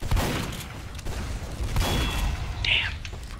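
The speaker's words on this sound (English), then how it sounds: "Finish you off with a shotgun." Shotgun blasts in a Team Fortress 2 match, heavy booming shots in quick succession over dense game noise, with no speech.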